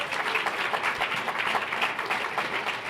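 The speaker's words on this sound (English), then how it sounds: "He deserves a round of applause." An audience at a gadget competition's final vote applauds in a steady, dense wash of clapping that holds at an even level throughout, with no talk over it.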